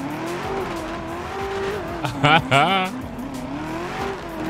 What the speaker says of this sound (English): I could drive this all day until I get a headache, though. Because this thing is loud